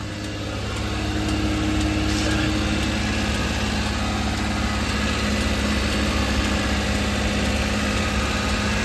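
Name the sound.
Suzuki Carry kei truck engine idling after oil change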